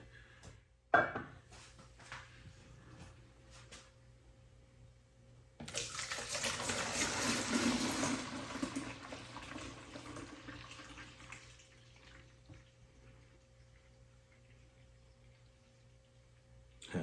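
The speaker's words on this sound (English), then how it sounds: "we're gonna go ahead and get this transferred in" Chilled beer wort for a one-gallon hoppy wheat batch pours into a fermenter as a steady, close rushing stream that lasts several seconds, after faint handling knocks, then trails off.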